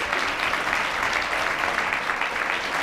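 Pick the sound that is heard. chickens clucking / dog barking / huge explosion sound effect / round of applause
round of applause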